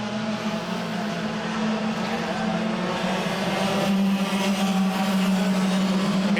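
Club100 sprint racing karts at Rye House circuit, a steady loud engine drone with a strong low buzzing tone that holds throughout and swells slightly in the second half as karts close up on each other.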